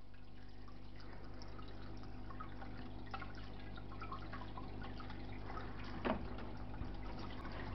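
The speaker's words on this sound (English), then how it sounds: "I'm slowly trying to pour the water in." Water trickles and drips softly as it is slowly poured into a grow out box, a faint, steady liquid sound with one brief louder splash near the end.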